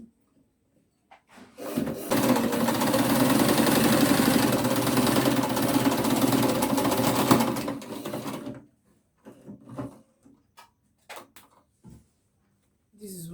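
A sewing machine stitching fabric for a pair of simple shorts, running in one steady continuous burst of several seconds, then stopping, followed by a few short clicks and handling noises.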